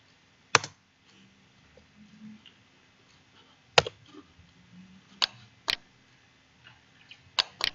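Scattered keystrokes on a computer keyboard during a software tutorial: a few isolated clicks spread across several seconds, sharp and fairly close, with no talking.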